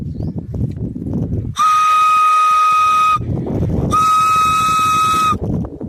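Two long, loud, steady blasts from a homemade folk whistle, a shrill, harmonic-rich tone, separated by a short pause, with rustling outdoor farm noise around them.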